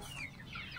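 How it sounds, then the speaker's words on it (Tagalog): Hens in a backyard coop, a flock including brown and barred Plymouth Rock breeds, cluck softly and steadily in a brief, close burst with faint chirps over a low farmyard hum. "ang aking mga manok. Ayan yung kulungan nila."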